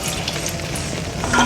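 Semolina (rava) frying in hot ghee for a sweet prasada, giving a steady, close sizzle with a soft crackling hiss that swells a little toward the end.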